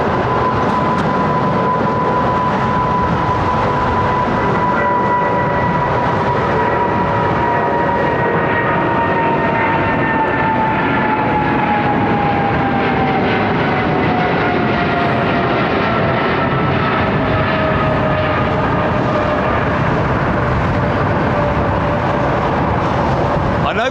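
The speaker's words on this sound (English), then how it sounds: "There is a Doppler effect there, but there you can hear them reducing the engine power, and they're picking it up again." Jet airliner climbing out overhead from runway 09R at London Heathrow, a long steady roar with engine tone sliding downward as power eases then builds again, continuous for the whole stretch.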